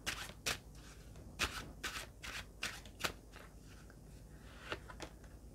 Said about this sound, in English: So let's just grab a card out of this deck for you.